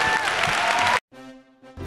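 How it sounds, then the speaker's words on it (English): A comic convention panel crowd breaks into loud, dense applause for actor Chris Sarandon, lasting about a second before cutting off abruptly into quieter tonal sound. "Can you please give a huge round of applause for Chris?"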